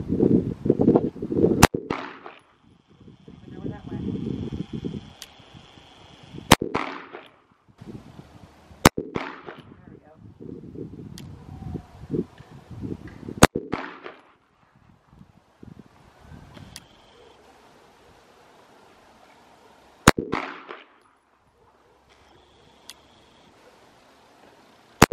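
Glock 19 Gen 5 pistol fired at an outdoor range, several sharp single shots spaced a few seconds apart, loud and close, with wind rumble and light handling noise between them.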